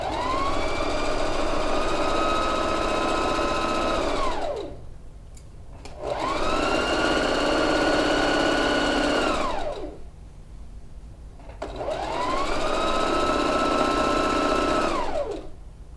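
Domestic sewing machine stitching a wrap dress seam in three long, even bursts of fast whirring, each ending in a slowdown and a short pause.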